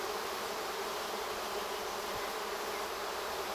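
A swarm of bees buzzes in a garden, a dense, continuous hum from many insects at once, steady and moderately loud with no pauses.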